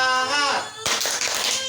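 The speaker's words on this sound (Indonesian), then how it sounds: "Yuk kita semuanya tepuk semangat." After a voice stops, a group at a community meeting breaks into a short burst of rhythmic spirit clapping, close and fairly loud, lasting under a second.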